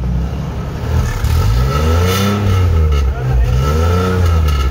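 A car fitted with a 3-inch straight-pipe exhaust and stock cylinder revs hard and loud, its engine note climbing and falling through several throttle blips with a raspy, droning tone close by, with no talking.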